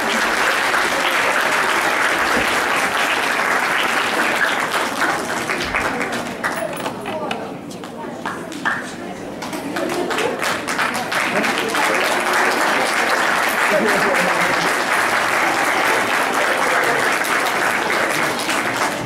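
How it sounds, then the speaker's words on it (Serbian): An audience at an award ceremony breaks into loud, sustained applause. The dense clapping fills the room for the whole stretch and eases briefly near the middle before swelling again, while a voice speaks underneath. "Veliki aplauz za gospođu Dalibora."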